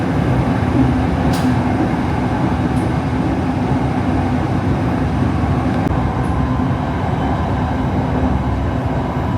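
Bangkok's Red Line electric commuter train running between Bang Sue and Rangsit, a loud continuous rumble and rail roar heard from on board, with a few brief high squeals over the steady noise.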